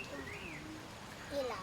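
A pigeon coos softly a couple of times against a quiet background, with a faint higher bird call near the end.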